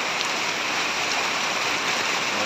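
Steady rain pours onto a construction site where purlins are being installed, a dense, even hiss of water that holds constant throughout with no voices.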